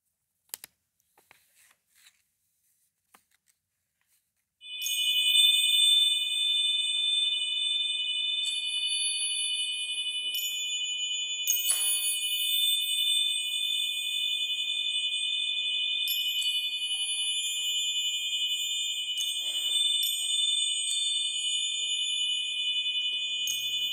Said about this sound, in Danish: hvordan lyder de her guldmønter